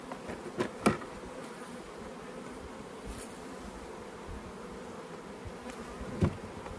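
Honeybees drone around opened hives in a steady low hum, with a few louder passes as single bees fly close to the ear.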